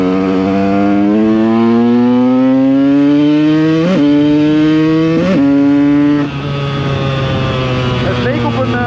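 A KTM EXC 125 two-stroke motorcycle revs loud and close, its engine pitch climbing through several gears with abrupt shift drops, then falling as the throttle eases.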